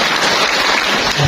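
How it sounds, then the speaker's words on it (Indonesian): Audience clapping at a BKKBN East Java family-planning event with a disability advocacy group, a loud continuous burst of applause filling the short moment. "Boleh kasih tepuk tangan terlebih dahulu."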